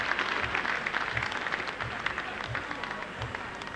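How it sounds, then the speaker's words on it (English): Rugby league crowd at Oldham applauds an injured player during a 1991 Challenge Cup match, a steady wash of distant clapping with faint rhythmic thumps underneath. "Generous applause, and rightly so, from this Oldham crowd."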